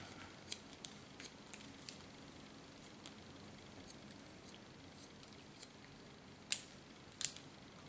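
Scissors snip through hair during a haircut, leaving a trim line with some length at the back; quiet, scattered clicks under faint room hiss, with two sharper, louder cuts near the end.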